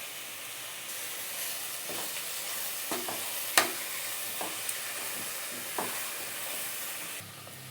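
Onion masala with salt, mint and coriander sautés in a pan for a cauliflower kurma, a soft steady sizzle broken by stirring scrapes and one sharp metallic clink midway; fairly quiet and close, with no voices.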